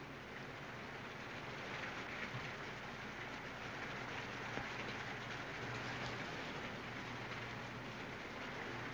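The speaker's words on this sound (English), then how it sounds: "That's a bit of luck. The rain's stopping." Rain falls in a 1939 film scene as a soft, steady, even hiss, fairly quiet and unbroken throughout, with no one speaking over it.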